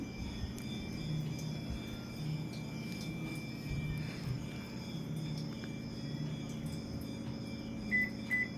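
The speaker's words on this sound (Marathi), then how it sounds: "ओव्हनमध्ये भाजून घेते एक्सप्रेस कुकिंगवर तीन मिनिटे शेंगदाणे भाजून घेतले मी" A microwave oven roasting peanuts on an express cooking setting gives off a steady, even hum with a faint mechanical whir and a few small beeps near the end.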